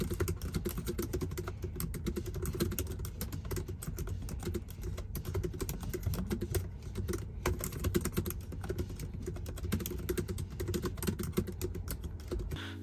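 Steady typing on a MacBook Pro 14 M1 Pro keyboard, a close, quiet run of rapid tactile key clicks in an uneven rhythm, heard alone.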